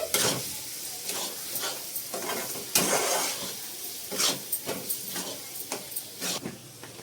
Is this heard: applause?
no